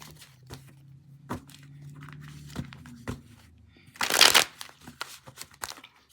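A card deck being shuffled by hand: soft scattered card slaps and slides, then a loud burst of fluttering riffle in the middle, close up, with no talk.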